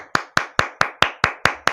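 A person claps their hands eight times at a steady, even pace, each clap sharp, close and distinct, with no talking in between.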